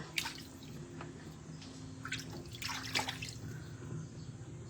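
Dishes being washed by hand at a sink: water splashes and trickles with scattered clinks and drips, fairly faint and close.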